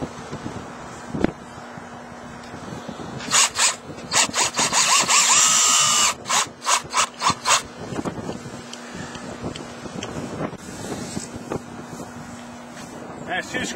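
A power drill drives screws into the wooden boards of a ranch rail fence outdoors, with several loud whirring bursts, some sustained and some short and stuttering, over wind noise while someone talks.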